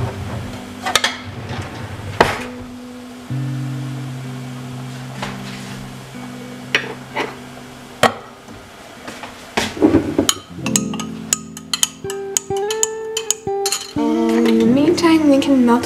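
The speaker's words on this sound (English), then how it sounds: "Okay, and now you have to mix it." A spoon mixes flour batter in a bowl, clinking and knocking against the sides in irregular taps that turn into rapid, busy clatter toward the end, with brief voice sounds in between.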